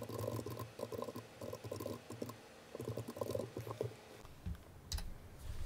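Computer keyboard typing in bursts of rapid key clicks, fairly close, with brief pauses between runs and a faint steady hum beneath.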